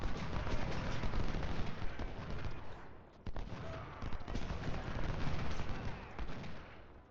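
Ragged rolling volleys of Civil War musket fire crackle continuously across a battlefield in Ultimate General: Civil War, dense and loud with brief lulls between bursts.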